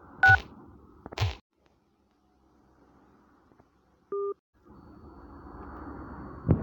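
A phone dials the number 666 with a few short keypad tones, followed by a longer steady beep and a faint line hiss, with no speech.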